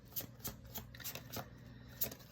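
Tarot cards being shuffled and drawn, a series of soft, quick riffling flicks and slaps at an irregular rhythm, close but quiet, with no talking.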